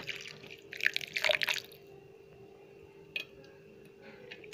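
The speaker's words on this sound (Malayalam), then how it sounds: "വെള്ളം ഒഴിച്ചു കൊടുക്കാം" Water poured into a mixer jar holding coconut, onion and ginger for a Kerala-style apple curry makes a short, faint splashing and trickling burst, followed by a few soft drips in a quiet kitchen.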